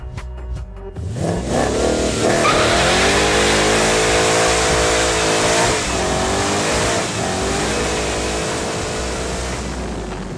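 Roush Stage 3 Ford Mustang doing a burnout, its engine revving hard and holding high, loud and close, with rising and falling pitch throughout and no talk.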